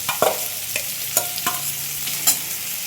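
Shrimp frying in a pan with mustard and poppy seed paste, a soft continuous sizzle broken by a few scattered stirring scrapes and clicks, close and moderately loud.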